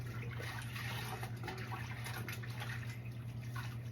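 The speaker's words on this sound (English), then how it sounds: "So let's wash our hands again." Hands washed under a running kitchen tap while making homemade pizza, a steady close rush of water with a constant low hum beneath it and no talking.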